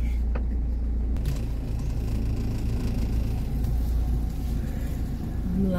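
A car engine rumbles steadily at low pitch as the car pulls forward slowly, continuous and fairly close with no talk over it.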